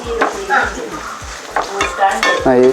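Repeated scraping of a spoon stirring a thick Kerala-style fish pickle mixture with asafoetida in a metal pot, steady rhythmic strokes, close and fairly loud, with a brief voice near the end.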